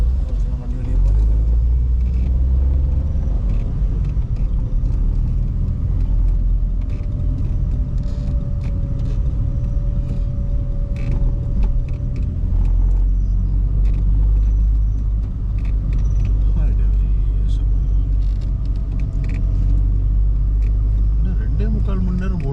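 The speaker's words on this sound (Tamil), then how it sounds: "வண்டி வெளியே போகுது." A car driving at night on the road from Cumbum to Kumuly, giving a steady, loud in-cabin rumble of engine and tyres that runs unbroken with occasional rattles, while people talk over it.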